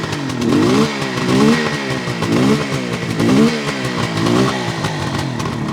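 A 1972 Suzuki GT550J motorcycle's two-stroke triple runs close and loud, its engine note rising and falling in repeated blips of the throttle with a buzzy, rattling edge.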